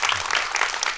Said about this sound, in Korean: 박수가 안 멈추니까 되게 당혹스럽네요